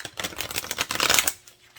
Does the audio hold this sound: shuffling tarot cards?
yes